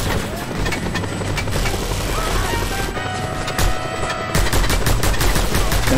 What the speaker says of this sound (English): I'll just shoot you in the face